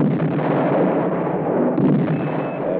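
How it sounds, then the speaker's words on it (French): Dense, continuous rumbling barrage of heavy booms blending into a steady roar, like sustained cannon fire at a distance, with no voices. "La batterie du canon continue à tirer inexorablement"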